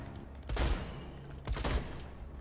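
Two heavy sniper rifle shots boom about a second apart in Borderlands 2, each a thick, fairly muffled blast over a low background hum.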